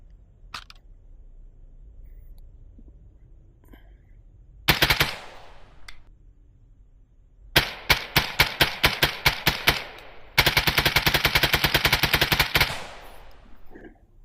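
Full-auto AK rifle fire in the shooter game Contractors Showdown, beginning with a single short burst and then long, loud rapid-fire strings of sharp, evenly spaced shots against a quiet background.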